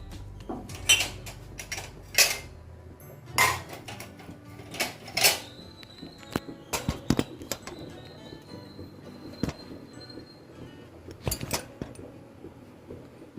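A pot of cooked rice handled in a home kitchen, with a series of sharp metallic clanks and scrapes from the pot and lid arriving in irregular bursts, close and fairly loud, then lighter taps over a quiet room background.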